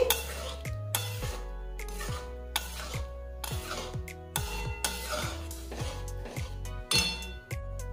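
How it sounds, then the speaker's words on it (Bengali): A spoon scrapes and clinks against a pot while boiled mung dal is stirred into softened spinach, giving a quick run of close metallic knocks and rasping strokes at a steady pace, with no voices. "এবার নেড়ে চেড়ে নিচ্ছি।"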